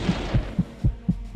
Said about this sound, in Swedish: Hör ni hjärtslagen?